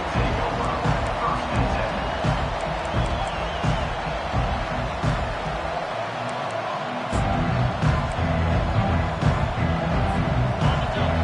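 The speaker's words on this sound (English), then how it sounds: "This crowd trying to show them what it's going to be like all day in this house." A steady stadium crowd roar from an NFL football video game, broad and continuous with brief swells of cheering and thumps, while a commentator's voice can be heard faintly within the noise.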